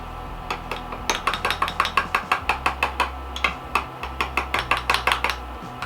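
A utensil clinks against a bowl while homemade vegan enchilada sauce is mixed, giving quick, rhythmic, bright taps that run steadily and close by with no voices.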